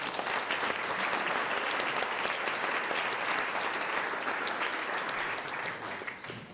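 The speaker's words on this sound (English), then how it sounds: "give all who collaborated in this event a great big round of applause" Big round of audience applause at a mayor's prayer breakfast, dense steady clapping from a large crowd throughout, tapering slightly near the end.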